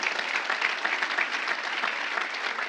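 A church congregation applauds, a steady close wash of many hands clapping that holds evenly for a few seconds with no voices standing out.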